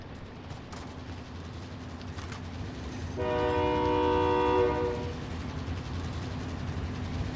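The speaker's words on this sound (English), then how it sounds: "Train's coming by." A train rumbles past in the Call of Duty: Modern Warfare video game, its horn sounding a sustained chord for a couple of seconds over steady rolling noise.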